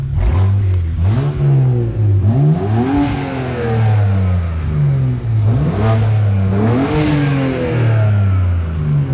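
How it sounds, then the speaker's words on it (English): A BMW E90 335i turbocharged engine with a downpipe and blow-off valve, revving loudly up and down in repeated close bursts, with a rising whine and a whooshing release as each rev drops. "you hear the turbo. that's the thing. You hit the block value here."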